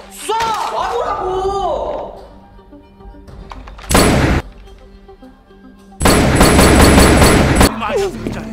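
Gunfire in a comedic parody edit of the Korean TV drama Money Heist comes as two harsh bursts, one short and one longer and rapid like automatic fire, after tense shouting voices and a quieter pause.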